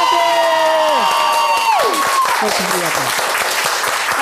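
Loud studio audience applause with some cheering from a TV cooking show crowd, sustained throughout while a voice and a musical sting sound over it.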